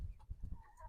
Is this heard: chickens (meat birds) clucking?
yes